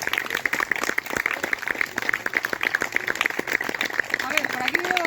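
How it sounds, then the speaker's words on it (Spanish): Applause for the washerwomen of Troconiz at a village tribute by the old communal wash house in Álava; a crowd claps continuously and fairly loudly, with voices mixing in underneath. "voy a pedir un aplauso para ellas"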